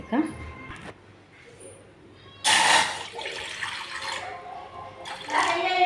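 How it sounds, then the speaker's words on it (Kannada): Water pours into a pot on a gas stove for making tea, a loud splashing rush lasting a few seconds, with someone speaking before it starts. "ನೀರು ಹಾಕ್ತೀನಿ ತಡ್ರಿ"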